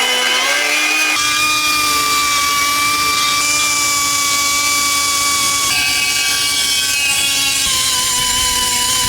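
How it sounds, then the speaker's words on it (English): A power drill runs continuously with a high motor whine whose pitch shifts as it bites into material, loud and close, while servicing a Massey Ferguson MF35 tractor. "So we could drill another hole here."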